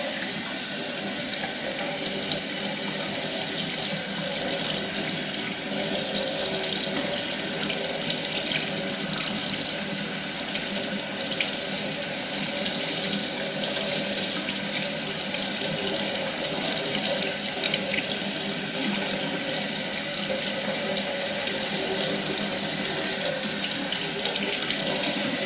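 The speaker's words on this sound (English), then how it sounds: "And then I'll just rinse the whole board off with hot water." Hot tap water runs steadily from a faucet into a sink, rinsing an Atari 2600 Jr circuit board, a constant close splashing hiss that continues unchanged throughout, with no talking.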